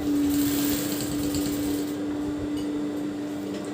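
A sewing machine runs steadily while stitching a straight seam on a chudidar garment, a continuous close whirring motor hum with a constant tone and no pauses, slightly easing toward the end.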